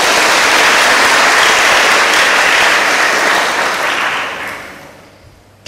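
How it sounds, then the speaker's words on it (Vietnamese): Audience applause following a Buddhist dharma talk by a nun, a dense sustained clapping from a large crowd that holds steady for several seconds, then thins and fades toward the end. "À, xin cho một tràng pháo tay."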